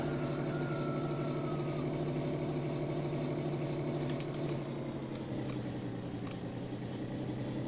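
A tractor engine idles in Farming Simulator 2013, a continuous low droning hum that holds steady throughout with no voices.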